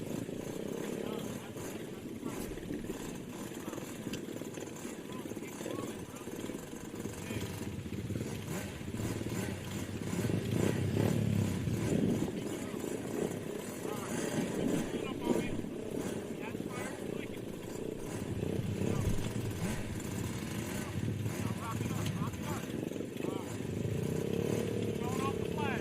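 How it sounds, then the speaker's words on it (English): Youth quad bikes with 50cc to 110cc engines, including 110cc four-strokes and 65cc two-strokes, race at a quad world finals, their engines droning steadily and loudly throughout while an announcer talks over them. "The Modifieds are 110s 4-strokes and 65 2-strokes."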